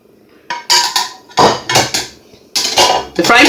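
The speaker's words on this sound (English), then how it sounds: "The frying pan goes on the cooker, so you need a cooker or a burner." Metal frying pan clattering onto a cooker, several sharp clanks and scrapes in quick succession, close and fairly loud.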